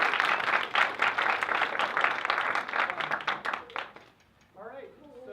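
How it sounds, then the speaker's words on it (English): Audience applause for an improv comedy performer, steady, close clapping that fades out near the end as a voice begins speaking. "Round of applause to Dan."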